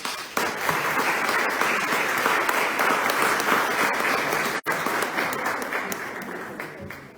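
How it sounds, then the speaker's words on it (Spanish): Sustained audience applause at a Spanish-language conference on assertive parent-child communication in Prader-Willi syndrome, steady and loud throughout with a brief dip partway before resuming. "Recibámoslas con un fuerte aplauso."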